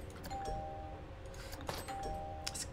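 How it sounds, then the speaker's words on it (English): Doors in the theme park game Planet Coaster give a soft ding-dong doorbell chime, which rings faintly a couple of times over a low ambient bed of park sounds. "Anyone know why the doors make a doorbell sound?"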